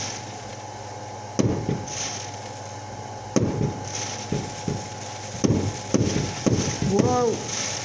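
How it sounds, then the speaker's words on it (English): Fireworks going off outdoors as a string of sharp cracks and thumps at irregular intervals, some isolated and some clustered, heard at moderate distance with faint background noise and a brief whistling rise near the end. "That's a lot of fireworks in the video right here."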